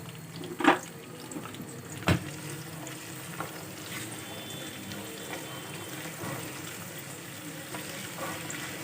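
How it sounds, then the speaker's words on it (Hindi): Spices and curry leaves sauté in hot oil for a kadhi tempering, a soft steady sizzle with two sharp utensil knocks near the start and faint stirring afterward. "सबसे पहले हम ऑयल में ये सब चीज़ें डालेंगे। ठीक है, इसको करेंगे सौटे।"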